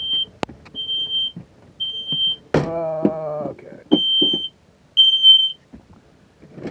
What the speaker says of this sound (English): my smoke alarm's going off